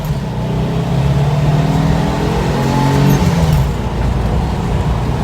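A 200 hp turbocharged VW bus accelerates, its engine droning loudly and rising in pitch as it pulls, heard from inside the vehicle.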